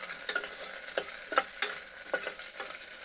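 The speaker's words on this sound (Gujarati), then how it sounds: "એને પણ સારી રીતે આપણે તેલમાં તળાવવા દઈશું કે શેકાવા દઈશું" Soft sizzling of garlic and curry leaves frying in oil, with scattered light crackles and a few stirring clicks, no voices.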